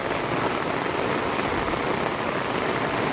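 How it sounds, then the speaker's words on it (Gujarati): Heavy monsoon downpour in Junagadh, heard from a rooftop terrace: dense, steady rain hissing loudly and evenly throughout, no voices. "જૂનાગઢમાં 5 દિવસ ત્યાં છે ને ધોધમાર વરસાદ વરસે છે"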